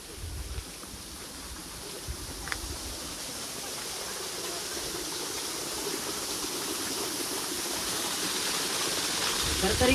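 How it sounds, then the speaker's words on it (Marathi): Small monsoon waterfall tumbling down rocks at Sinhagad Fort near Pune, a broad, steady rushing hiss of falling water that stays loud and even throughout, with no distinct voices standing out. "या बाजूला आपल्याला पाण्याचा आवाज येतोय. इकडे छोटासा धबधबा आहे."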